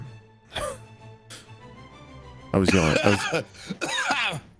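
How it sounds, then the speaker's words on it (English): A couple of short, harsh coughs or throat-clearing bursts, followed by a person talking. "What was that cough?"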